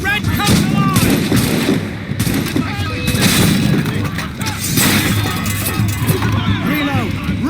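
Musket volleys crack through an 18th-century battle in Assassin's Creed Rogue, loud, dense and overlapping, mixed with shouting soldiers and the clamor of combat.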